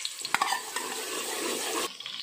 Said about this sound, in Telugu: ఉల్లిపాయ పచ్చిమిర్చి వేసుకున్నాను.